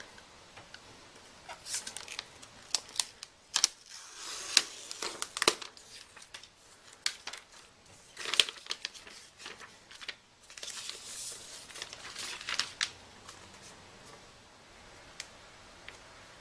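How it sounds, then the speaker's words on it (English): Plastic film being peeled and crinkled off a new Apple iPad WiFi + 3G, heard as irregular crackling bursts and soft tearing spread across the stretch, fairly close and quiet. "Let's get the plastic off."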